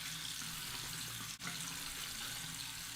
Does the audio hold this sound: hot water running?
yes